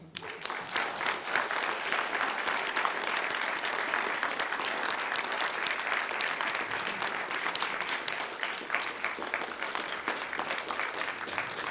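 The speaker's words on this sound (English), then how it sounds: "How about a round of applause for our speaker?" A press club audience gives a speaker sustained, even applause, many hands clapping together at a steady level for the whole stretch before tapering slightly.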